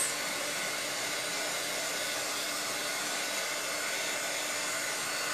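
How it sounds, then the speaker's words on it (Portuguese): A cheap hair dryer used for crafts runs steadily and close by, a constant airy whirring blow with no change in pitch or speed throughout, heard alone. "Sônia, a gente tava falando sobre o secador, eu acho uma ideia boa, mas não tem que ser um secador caro, não"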